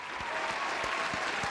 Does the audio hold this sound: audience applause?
yes